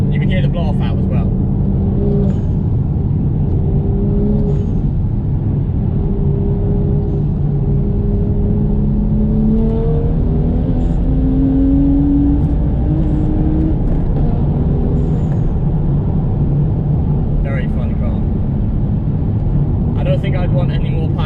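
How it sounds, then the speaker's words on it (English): Heavy, loud in-cabin engine rumble from a tuned BMW M235i with a custom exhaust pulling hard in third gear, the engine note climbing steadily as it accelerates, with faint hissing puffs that may be a blow-off valve. "You can hear the blow off valve as well."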